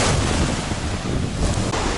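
Stormy evening surf on the Black Sea, steady loud crashing waves with heavy wind buffeting the microphone, no voices.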